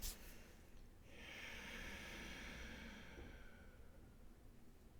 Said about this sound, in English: I'm doing it through my nose. So I'm like breathing in